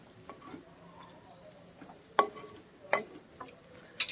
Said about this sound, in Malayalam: ഇനി ഇതെല്ലാം കൂടി നന്നായിട്ട് ഒന്ന് മിക്സ് ചെയ്ത് കൊടുക്കുക